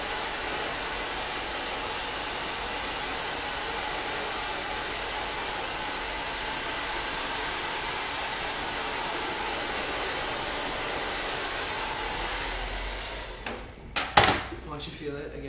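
A hair dryer blows steadily on hair in a styling session, a loud continuous whooshing roar that cuts off near the end, followed by a few brief knocks and rustles.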